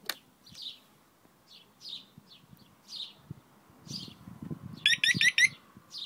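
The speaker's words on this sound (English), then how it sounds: "You heard the alarm has now armed itself" A Scorpio i900 motorcycle alarm arms itself with a quick burst of bright electronic chirps near the end, preceded by faint scattered clicks and rustles in a quiet setting.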